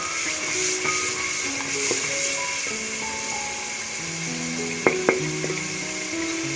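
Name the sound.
whole spices frying in hot oil for chickpea pulao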